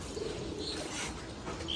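Caged pigeons coo softly against a steady background hiss, with a couple of faint, brief calls rising now and then and nothing loud or close.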